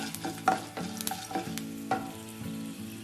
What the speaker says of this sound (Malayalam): അതിനുശേഷം 2 ഉണക്കമുളക് നടുവേ മുറിച്ച് ഇതിലേക്ക് ചേർത്ത് ഇളക്കുക